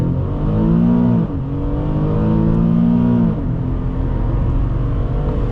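A 2011 Infiniti G37x sedan accelerating hard from a standstill, engine droning loud and close with rising pitch sweeps that break briefly at each gear shift before climbing again.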